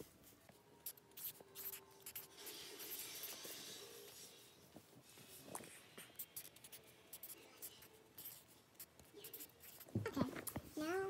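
Pen scratching out names on paper, a steady run of soft strokes and scribbles up close, with a few louder rustles and handling bumps near the end.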